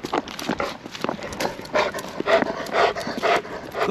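A dog moves about outdoors, with scattered footfalls, panting and rustling over steady background noise. The sounds are close and fairly loud, and no one speaks.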